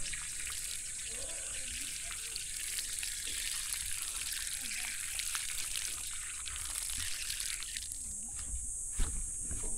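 Steady running water pours and splashes continuously, with a few brief clinks and knocks near the end; no voices stand out.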